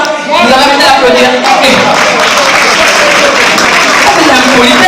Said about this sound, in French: Vous avez envie d'applaudir?